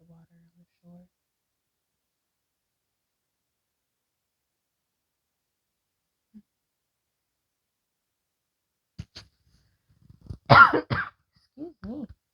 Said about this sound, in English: I feel a coughing fit coming on